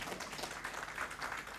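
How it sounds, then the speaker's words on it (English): An audience claps in welcome for a representative of the Chief of Defence Forces at a Buganda Kingdom donations gathering. The steady applause sounds faint and distant. "A warm hand clap as he comes to deliver the message from the Chief of Defense Forces."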